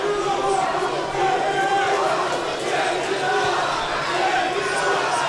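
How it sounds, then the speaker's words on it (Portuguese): A big crowd of supporters cheers and yells continuously at an MMA event in São Paulo, a loud, dense roar of many voices with shouting mixed throughout. "Tá aí a torcida grande do Eduardo Souza"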